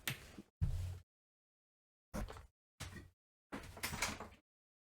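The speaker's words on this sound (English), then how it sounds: "Hang on, I've got a knock at the door." A door is handled after a knock at home, with several separate bumps and knocks of the door moving, spaced by silent gaps, close and moderately loud.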